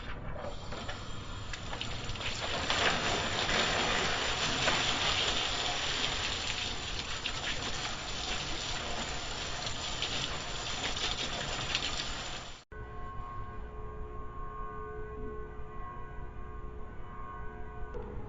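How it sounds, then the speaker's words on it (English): Water sprays in a steady, loud gushing hiss as dirt is rinsed off undercoating and rust-prevention test panels, the flow continuing throughout with a brief shift in tone partway. "I'll rinse them down, get any dirt that's on them off"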